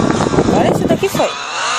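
Motorcycle racing in the video game Turbo Smash, a loud engine whine with skidding and squealing tires that breaks off suddenly, followed by a quieter stretch while a player talks excitedly over the game sounds.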